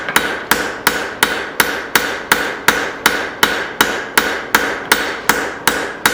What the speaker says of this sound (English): now I'm going to use my straight peen.